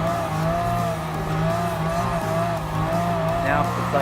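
A Ferrari historic race car at speed in Gran Turismo Sport, its engine holding a steady high drone near and loud, with a faint tire squeal toward the end and a voice talking over it.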